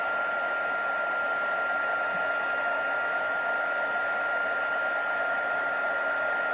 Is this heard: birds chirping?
no